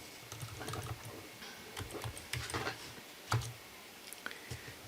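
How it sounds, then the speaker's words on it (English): A court reporter taps a brief form into a stenotype keyboard: a quiet, irregular run of soft key clicks and presses, with a few sharper taps, close to the microphone and without voices. "if I type in a brief and hit a terminator key"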